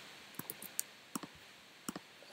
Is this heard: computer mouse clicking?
yes